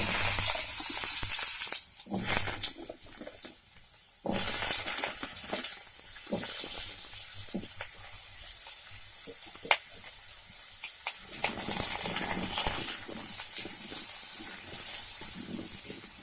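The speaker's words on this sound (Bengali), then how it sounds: "এগুলোকে এই গরম তেলে এবার ভেজে নেব" Steady hissing sizzle of potato pieces frying in hot mustard oil, continuing throughout with brief pauses and small crackles.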